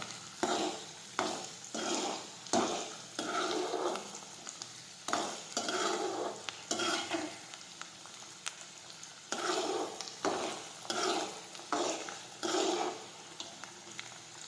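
Vasetti greens sauté in a pan with a steady close sizzle, broken up by repeated scraping and stirring strokes of a spoon against the pan in an uneven rhythm.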